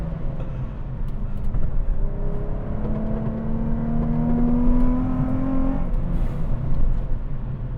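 A Nissan 350Z in a racing video game revs hard around a track, the engine whine climbing in pitch toward high RPM through the gears, loud and steady with a rushing background.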